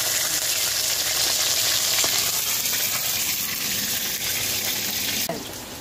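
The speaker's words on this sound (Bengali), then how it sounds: "মাছের পিসগুলো উল্টে দেওয়া হচ্ছে।" Rohu fish pieces fry in hot oil in a village kitchen, giving a steady, loud, close sizzle that holds throughout and drops slightly near the end.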